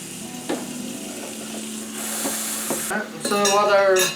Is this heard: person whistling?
no